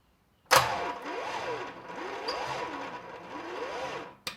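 A 16-valve car engine under rebuild cranks over on the starter with a rhythmic, repeating whine and churn for about four seconds, close and moderately loud, with no voices.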